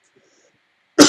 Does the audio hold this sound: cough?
yes